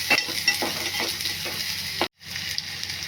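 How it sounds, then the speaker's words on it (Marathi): Masala spices for chicken rassa sizzle in oil as a spoon stirs through them, giving rhythmic scraping strokes over a steady frying hiss, with a brief gap of silence near the end. "परत व्यवस्थित ढवळून घ्यायचं. कसं लाल झालं, छान असं परतून घ्यायचे ते मसाले. तेल सुटेपर्यंत परतून घ्यायचे."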